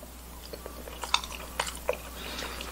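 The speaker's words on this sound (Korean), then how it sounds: "두부를 제가 한번 먹어보겠습니다." Someone eating plain tofu topped with a seasoning sauce, a few soft, faint bites and chewing sounds spaced across a quiet moment, close to the microphone.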